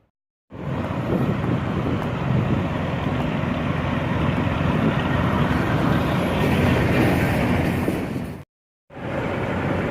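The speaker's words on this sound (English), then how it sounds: "So much engine noise around here." Steady loud rumbling drone of idling engines close by, broad and continuous with wind buffeting the microphone, cutting out briefly near the end before resuming.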